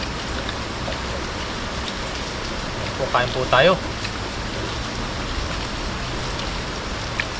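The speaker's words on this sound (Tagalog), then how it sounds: "Pasensya na po, medyo po malakas yung ulan ngayon." Heavy rain pours steadily under a bridge by a river, a dense continuous hiss filling the whole span, with a person briefly speaking over it.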